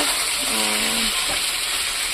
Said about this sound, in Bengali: এটাকে আমি কিন্তু ঢেকে ঢেকে ভাজবো।